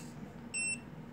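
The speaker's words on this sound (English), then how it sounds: "Now see it moves, but you hear the beeping." A single short, high-pitched electronic beep from a 32-channel servo controller board with an insufficient power supply sounds once over a quiet low hum.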